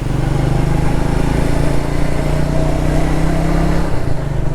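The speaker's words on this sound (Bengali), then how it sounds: "তার মধ্যে পাহাড়ে বাইক চালাচ্ছি।" Motorbike engine running steadily and loud while riding through hills in light monsoon drizzle in North Bengal, a continuous close drone from a 100cc bike with no pauses.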